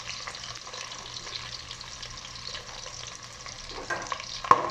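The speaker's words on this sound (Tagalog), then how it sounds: "nagisa na natin ang bawang sa luya" Onion, garlic and ginger sautéing in a pan for shrimp sinigang give off a steady, moderate sizzle with faint stirring scrapes and one sharp clink near the end.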